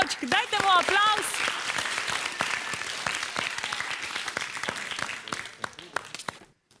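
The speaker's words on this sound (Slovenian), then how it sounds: "Dajte mu aplavz." A studio audience on a TV maze quiz game show applauds a contestant, a steady burst of clapping that opens over a few voices and gradually thins out toward the end.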